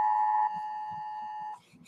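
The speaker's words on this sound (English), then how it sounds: "This is my phone making this weird noise." A phone sounds an emergency alert: a loud steady electronic tone, alone and close, that stops after about a second and a half, followed by faint rustling.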